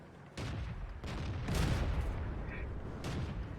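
Tank cannon fire in World of Tanks, a gun firing into a city: several sharp, fairly quiet shots and booms spaced about a second apart over steady background battle noise.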